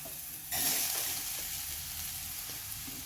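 Okra drops into fried masala in a hot pan with a sudden loud burst of sizzling that settles into a steady, close crackling hiss, with no talking.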